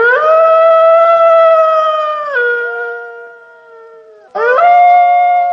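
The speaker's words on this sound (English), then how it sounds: "wolf," A wolf gives two long, loud, sustained howls, the first holding steady before sliding lower, then a brief pause and a sharp rise into a second howl, all close and alone.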